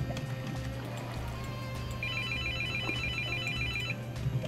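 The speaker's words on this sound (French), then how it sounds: "Téléphone." A telephone bell rings in a room during a French live stream, a steady repeating electronic trill heard at moderate level over a constant low hum, with no one speaking.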